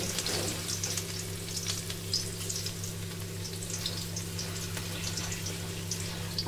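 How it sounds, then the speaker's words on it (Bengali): Washed radish and potato pieces fry in oil with five-spice seeds and dried chillies, giving a steady, even crackling sizzle throughout, close and fairly loud over a low constant hum, with no voices. "ধুয়ে রাখা কিছু মূলো আর আলুগুলো মা এতে ভাজতে ছেড়ে দিচ্ছে।"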